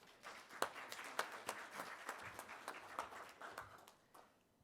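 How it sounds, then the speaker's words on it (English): Audience clapping for a speaker taking the stage at a media industry summit, a dense run of claps that tapers off at the end with no talk. "let's give a big round of applause to Jay to kick things off"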